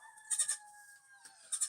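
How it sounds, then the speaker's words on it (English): Three quick high bleats in a row, a pause, then another bleat, over a steady faint hum; no talking. "So we have the baby goats here."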